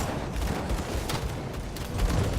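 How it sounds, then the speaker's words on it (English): Dynamite explodes repeatedly in the action role-playing game Grim Dawn, with dense overlapping blasts and crackling bursts packed close together throughout, and no speech. "The dynamite they're throwing, it actually does hurt."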